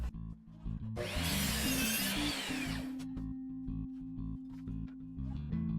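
Miter saw slicing through wood to make a batch of mitered pieces against a stop block, a single loud whining cut lasting about two seconds, set against a steady background of music.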